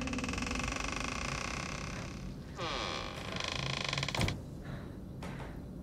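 Door in a horror short film creaking open in drawn-out, grinding squeals, fairly quiet under low background noise with a sharper creak near the end.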